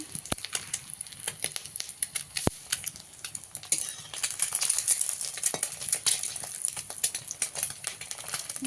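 Fried eggs being stirred and lifted in a pan, scattered light scrapes and ticks of a utensil over a faint steady sizzle, close by and without talk.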